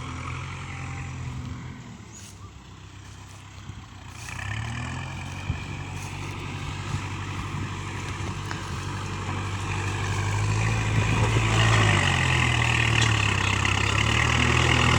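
A Kubota MU4902 tractor's diesel engine labours as it pushes over a tree with many roots, rising from a steady idle into a louder, heavier drone that keeps building near the listener.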